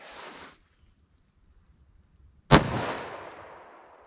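A .410 shotgun fires a single Sellier & Bellot 000 buckshot load outdoors, one sharp loud blast with a long decaying echo, following a brief burst of noise and a quiet pause.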